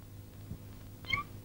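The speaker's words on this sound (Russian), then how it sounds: "Должно быть кошка." A cat mews once, short and faint, against a quiet low hum, with a soft thump just before it.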